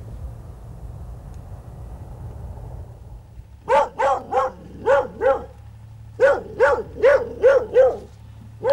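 A dog barks in the distance in a rural outdoor field recording, two bursts of about five and six evenly spaced barks over a low steady background hum, after a quiet opening.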